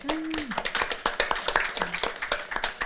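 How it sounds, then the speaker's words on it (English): Applause from a conference audience, irregular claps of varying strength over a background murmur, with a voice briefly audible near the start. "So give her a round of applause."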